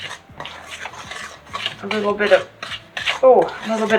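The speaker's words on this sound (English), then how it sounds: "I'll mix that up together" Molasses cookie dough, gluten- and dairy-free, being worked and mixed by hand in a bowl, heard as close, uneven rubbing and scraping strokes with occasional clinks of a utensil against the bowl.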